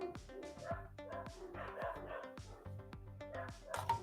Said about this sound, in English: I am sorry for the dogs, guys. I don't know what they're doing down there.